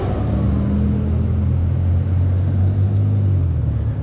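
Harley-Davidson LiveWire electric motorcycle on the move, a low steady rumble of wind and road noise with a faint motor hum, continuous and fairly loud, with no engine roar and no voices.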